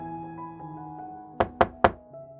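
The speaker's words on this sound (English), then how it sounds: "Hearing the knock at the door" Three sharp knocks on a wooden door at a grandmother's house in a fairy-tale bedtime story, evenly spaced and close, rising above a soft musical background.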